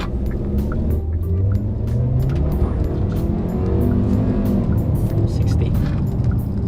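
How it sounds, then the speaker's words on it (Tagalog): A Jetour X70 Sport SUV accelerates hard from inside the cabin, its tyres slipping as it pulls, giving a steady loud engine and road rumble throughout. "nag-wheel slip pa. So dumudulas pa yung gulong, kumakamot yung gulong."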